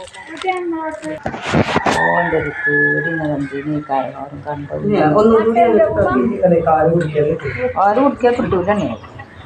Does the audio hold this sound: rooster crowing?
yes